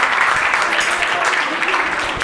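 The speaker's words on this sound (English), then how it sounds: "big round of applause for Team Yashu" Applause for the first-place team, Team Yashu, at a school English Week ad-making competition, a steady dense clapping that holds at full volume through the whole short stretch.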